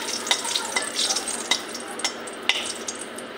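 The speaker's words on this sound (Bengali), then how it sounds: "তেলটা গরম হয়ে গেছে, এখন একটা শুকনো লঙ্কা দিয়ে দেব।" A dried red chilli drops into hot oil in a Bengali home kitchen, giving a steady close sizzle with a few sharp crackles and spits scattered across it and no talk.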